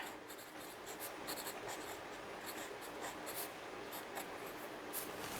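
A Kaweco fountain pen with a medium nib and Colorverse Red Shift ink writes on Moleskine paper, a close, continuous scratchy rasp with small rhythmic strokes.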